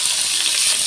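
Onion and green chili frying in hot oil in a heated pan after five-spice tempering, a loud, steady close-up sizzle hissing continuously without pause.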